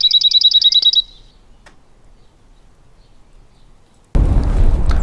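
A Cirl bunting sings one fast, dry trill of evenly repeated notes for about a second in a rural Devon setting. A quiet pause follows, then a sudden loud rush of wind noise takes over.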